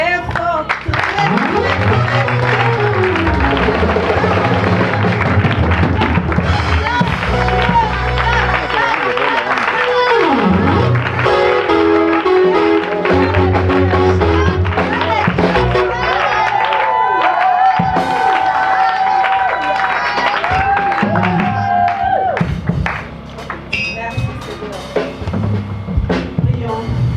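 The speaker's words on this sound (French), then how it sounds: "Bien-aimé, acclame très fort" A church congregation at a thanksgiving and consecration ceremony in Congo-Brazzaville applauds and cheers loudly, with dense clapping, shouts and music-like voices overlapping continuously before the roar drops slightly near the end.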